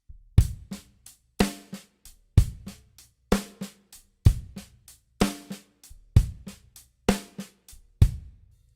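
A drum kit plays a steady Purdie shuffle groove, with crisp backbeat hits and kick drum in a repeating triplet pattern and very quiet ghost notes between them, close and clear with no talking.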